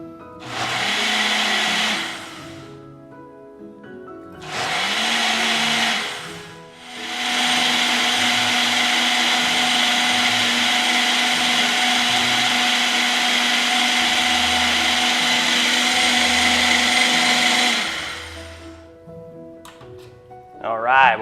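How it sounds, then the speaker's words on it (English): A blender whirs through a smoothie in two short bursts and then one long steady run of about ten seconds, loud and close with a droning whine, and a voice speaks in the pauses. "put it on the blender like I'm going to do here"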